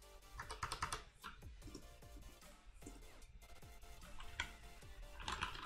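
Typing on a computer keyboard, a steady run of quick, soft key clicks and taps at an uneven pace, close but quiet, with no talk.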